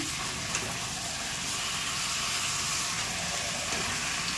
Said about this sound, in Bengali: এবার ভালো করে কষিয়ে নেব মাংসটা।